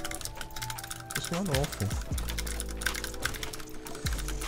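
Rapid clicking keystrokes on an external computer keyboard plugged into a school laptop, steady and close, with a person speaking and music playing underneath.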